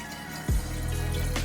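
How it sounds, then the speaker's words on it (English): Water runs from a Primo Smart Touch water dispenser in a steady, close stream after a short tap at the start, filling a container with a continuous liquid trickle and no talk. "and then you hit the dispense control. And there's your water."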